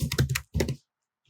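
Two quick bursts of keystrokes on a computer keyboard as a short search term is typed, close and crisp, then silence.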